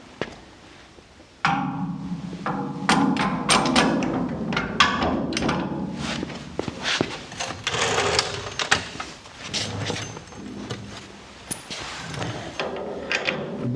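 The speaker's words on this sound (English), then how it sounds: "now we're going to slide the coilover unit in." A coilover unit is slid into a GT3 road race car chassis during a rebuild. Close metallic clunks, scrapes and knocks come in an irregular series, with no talk.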